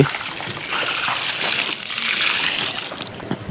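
Water from a bucket pours and splashes into a flooded rice paddy on an Odia farm, a continuous close gushing slosh that holds steady for several seconds before tapering.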